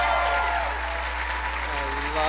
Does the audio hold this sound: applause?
yes